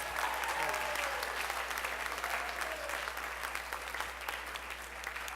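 Steady, dense clapping from the audience at a 2018 school spring band concert in Strongsville, with a faint steady hum beneath it and a slight fade near the end.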